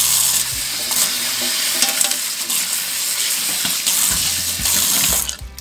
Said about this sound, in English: I'm just gonna flush this one really quickly because I haven't done it in a while.